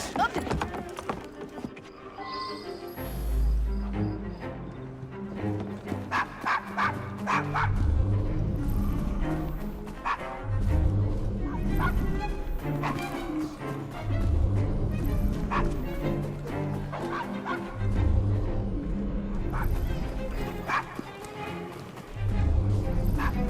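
A dog in the video game Assassin's Creed Syndicate barks and yips repeatedly in loud bursts, mixed with clip-clopping horse hooves, game music and in-game speech.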